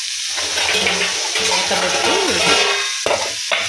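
Onions sizzle in hot oil with tempering spices in a pan as a spoon stirs them with scraping strokes. The frying is close and loud, with short pauses near the end.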